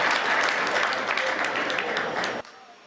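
An audience claps at a Hindi poetry recital, a loud, dense burst of applause from a crowd that holds steady and then cuts off abruptly near the end, leaving quiet room sound.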